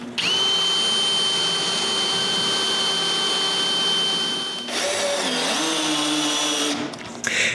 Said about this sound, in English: I drilled some big shallow holes on the left side to have a counterbore hole for the screws heads